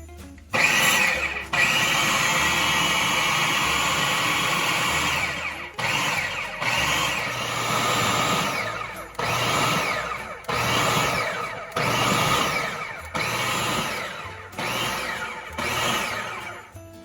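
A food processor blending a thick mash, whirring loudly in long bursts that stop and start repeatedly, each run with a rising motor whine and short gaps between pulses.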